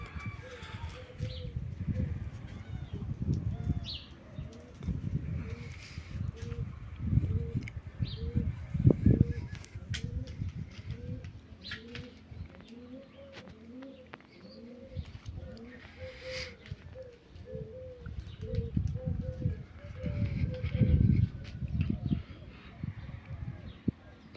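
Young pigeons coo close by in a series of soft, rhythmic repeated calls that run through most of the stretch. Someone talks intermittently in Turkish over them.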